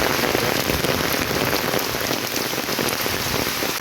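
Heavy rain pours steadily on a morning of 15 August, a dense, even hiss of drops hitting surfaces close by, with no pauses and no voices.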